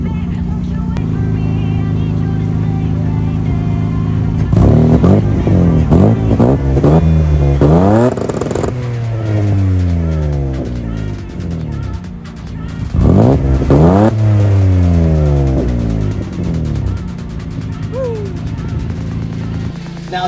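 A six-speed manual Mercedes W203 with a swapped M104 engine revs loud and close on back roads, rising and falling through repeated climbs in pitch with gear changes, steady throughout with no talking.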